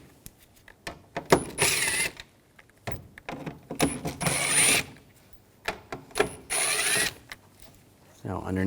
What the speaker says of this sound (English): We're going to take these screws out up top. Use a T25 socket.